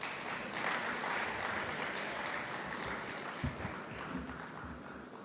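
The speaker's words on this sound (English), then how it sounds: "Round of applause for our Chief Judge, ladies and gentlemen." Steady, fairly faint audience applause at a national journalism awards ceremony in Uganda, an even wash of many clapping hands heard from a distance.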